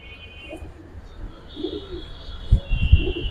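Soft, low cooing from silver Lalpatti homer pigeons, repeated a few times and growing fuller near the end, over a quiet background.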